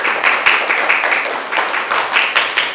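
Sustained applause from an audience welcoming a speaker at a talk on regulating live music, dense steady clapping filling the room with no voices over it.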